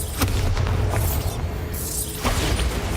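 Bombarda spell explosions in Hogwarts Legacy go off in quick succession, loud deep booms with sharp cracks layered over a continuous rumbling roar.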